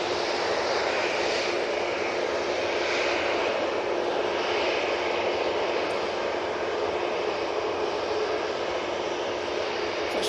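An Airbus A330-300 touches down at Manchester Airport, left gear first, with a steady, fairly loud broadband engine roar and rushing air sustained throughout, no talking over it.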